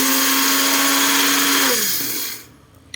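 An electric blender grinds food with a loud, high whirring motor. It holds steady, then winds down and stops, leaving near silence.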